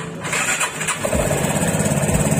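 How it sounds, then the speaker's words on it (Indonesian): A motorcycle engine is cranked on its electric starter with a 12-volt battery connected; a short whir catches after about a second and settles into a steady, close, pulsing idle. "Terus kita starter."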